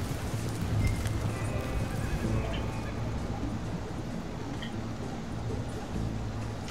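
Horse hooves clip-clop steadily as horses pull a wagon in Red Dead Redemption 2, with wheel rumble and occasional whinnies under a constant outdoor bed of sound.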